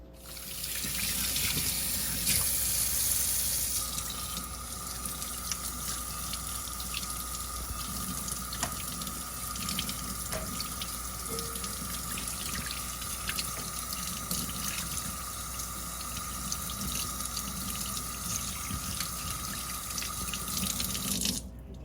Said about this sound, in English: I'm just going to run this under cold water and rinse it really well.